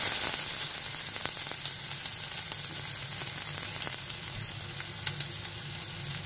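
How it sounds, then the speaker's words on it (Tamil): Steady, loud sizzling of onions frying in hot oil, a continuous crackle close by with occasional pops and no talking. "வெங்காயம் சேர்த்து நல்லா வதக்கிக்கோங்க."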